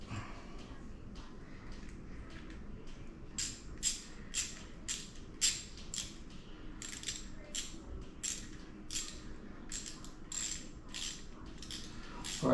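A ratchet tightens a hose clamp during assembly of a Polini Thor 202 on a Kangook Amaruk XD, a quick run of crisp close clicks in bursts over faint background noise.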